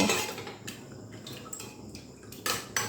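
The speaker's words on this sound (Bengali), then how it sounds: "এখন আমি এই আমগুলো হাতা দিয়ে এরকম করে জলের মধ্যে একটু মিশিয়ে নেব" A ladle stirs boiled raw mangoes in water inside a pot, giving soft sloshing and a few sharp metallic clinks against the pot's side, quiet and close.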